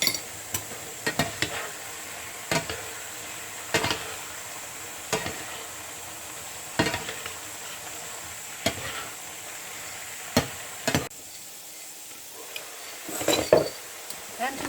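Ratatouille stirred in a cooking pot with a spoon, giving repeated sharp scrapes and knocks against the pot roughly every second over a soft steady simmering hiss.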